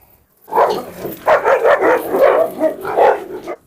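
Large Kangal and Cane Corso dogs bark and snarl while fighting, loud close bursts of barking and growling in a rapid irregular run of several seconds.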